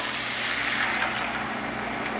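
Water pours steadily into a cooking pot for curry chicken, a close, continuous splashing gush that lasts the whole short stretch.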